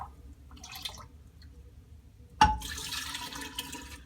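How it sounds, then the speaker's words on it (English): Liquid is poured around the inner edges of a kombucha brewing jar, a soft trickling splash that starts abruptly and runs steadily close by, with faint drips before it. "pouring it kind of around the edges, not directly on top."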